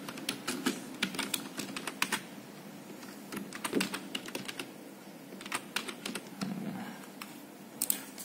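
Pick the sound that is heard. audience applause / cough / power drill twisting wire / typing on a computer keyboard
typing on a computer keyboard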